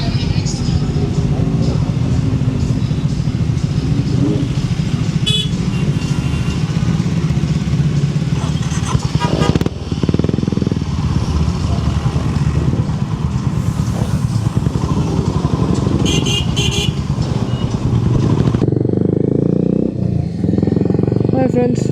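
Several motorcycles, including a Suzuki Hayabusa, ride past on the way to a motorcycle festival, their engines rumbling and revving continuously and loudly, with occasional short sharp bursts and someone talking over the noise.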